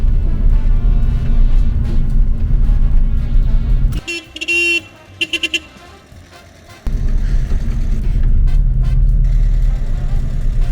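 A cheap used car drives in second gear, its engine a loud, close, steady drone that drops away briefly mid-way amid a short toot-like burst, then returns to the same rumbling run.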